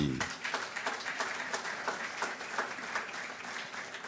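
An audience at a church gathering of young Congolese people claps in a dense, continuous round of applause that stays even and moderately distant, with no voices standing out.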